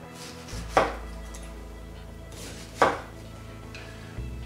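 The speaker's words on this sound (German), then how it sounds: "Wenn man nur die Stücke braucht, dann einfach hier am Strunk entlang schneiden." A knife cuts a pineapple along its fibrous core, producing two sharp, close chopping thuds about two seconds apart against a quiet background hum.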